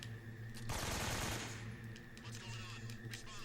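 Rapid automatic AK rifle fire in Metal Gear Solid 3, a loud burst of about a second followed by fainter game ambience and sporadic clicks.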